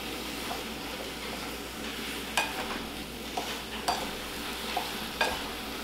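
Cherries and sugar get stirred in a pot with a spoon, producing soft gentle sizzling and a few sharp clinks against the pot at irregular intervals, no talking.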